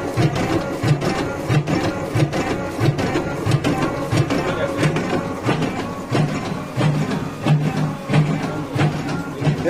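A batasa sugar candy machine runs in a small workshop with a steady mechanical clatter, repeating in a brisk, regular rhythm. The working noise is close and fairly loud, and faint voices sound under it at times.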